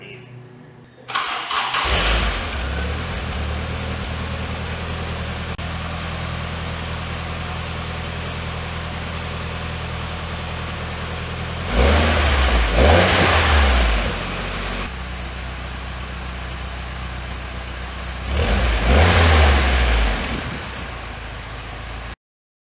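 A car fitted with an AP Exhaust MSL Maximum muffler starts and settles into a steady idle, then gets two short, loud revs several seconds apart before the engine cuts off.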